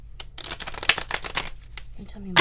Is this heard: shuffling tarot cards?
yes